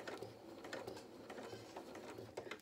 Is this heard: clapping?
no